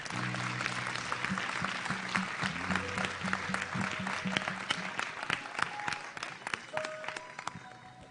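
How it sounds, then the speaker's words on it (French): Sustained applause from a church congregation at a joint worship service, with a steady crowd clapping that fills the space while soft keyboard chords ring underneath. "Acclamons pour Jésus-Christ."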